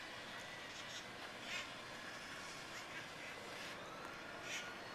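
Wild parrots call from an apple tree on Telegraph Hill, a few sharp squawks rising faintly at intervals over a steady outdoor hiss, sounding somewhat distant.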